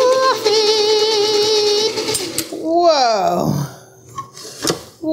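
A Hobart N50 stand mixer creaming, its motor giving a steady tonal whine that then winds down in falling pitch, followed by voices and small clatter.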